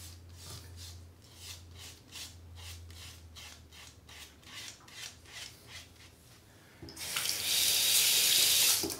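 Tap water runs steadily while a cartridge razor is rinsed under it, with short rhythmic sloshing pulses at first, then a louder, fuller gush of running water near the end.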